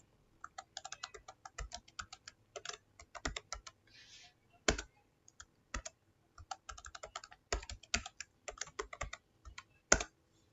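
Keys clatter on a computer keyboard during password entry at a root login prompt, arriving in quick irregular bursts with a few heavier single strokes such as the enter key, close and clear with no talking.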